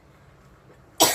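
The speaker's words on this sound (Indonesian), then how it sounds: "Batuk guys." A woman lets out a single loud, close cough at the very end, a sudden harsh burst after about a second of quiet room tone.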